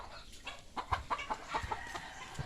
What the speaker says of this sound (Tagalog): Lah, chicken. Oh. Chicken.